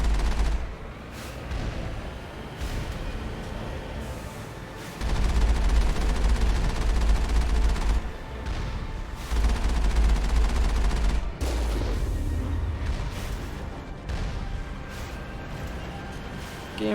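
Sustained turret gunfire in Mass Effect on Noveria, with bursts of rapid shots and low booming impacts across the clip and a voice speaking briefly over the firing.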